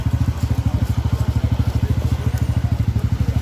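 A 2019 Suzuki motorcycle engine idles steadily nearby, its low, even putter pulsing in a fast regular rhythm with no talking.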